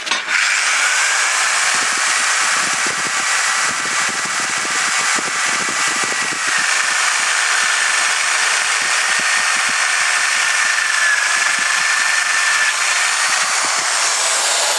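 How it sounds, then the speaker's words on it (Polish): A steady, grinding hand drill whir runs continuously for the whole stretch, with scattered woody scraping and knocking underneath, close and fairly loud. "Teraz i teraz będziemy sobie wiercić."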